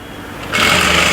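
A sewing machine stitching the fabric of a garment's round neck starts up halfway through and runs loud and steady, with no voices.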